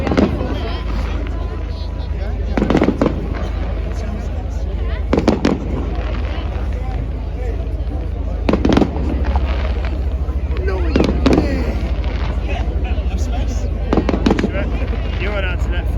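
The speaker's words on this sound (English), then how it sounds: "I doubt anyone can buy those fireworks. Probably not. Those are probably category 4 ones" Fireworks burst over Poole Quay in repeated loud bangs spaced a few seconds apart, booming over a constant crowd and harbour rumble, with people talking throughout.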